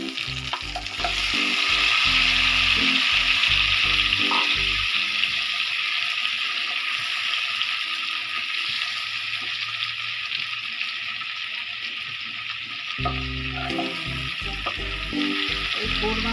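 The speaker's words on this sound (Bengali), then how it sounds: "ডিমটা ভাজবো।" Boiled duck eggs frying in oil for a korma, bright continuous sizzling with intermittent low clattering knocks of a utensil against the pan.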